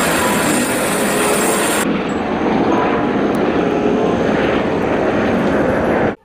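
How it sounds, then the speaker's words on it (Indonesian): A helicopter roars loudly and steadily, a dense whirring engine drone that holds for several seconds before cutting off abruptly. "Lihat teman-teman. Ada helikopter."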